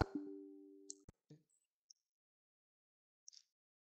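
A computer mouse gives a couple of quick, sharp clicks in a quiet room, with a voice speaking briefly beforehand and a few faint ticks afterward.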